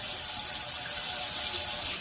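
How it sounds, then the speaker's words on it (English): Water runs steadily from a sink tap while a brush is scrubbed and rinsed under the stream, a close, continuous splashing hiss with no talking. "I'm going to scrub while under the sink water to really rinse out that brush"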